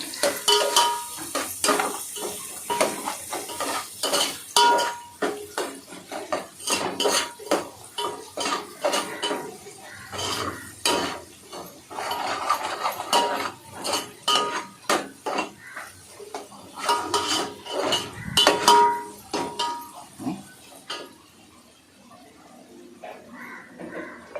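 A spoon or ladle scrapes and clanks against a pot while egg biryani ingredients with onion are mixed, rhythmic metallic knocks repeating close up for a long stretch, with soft background voices now and then.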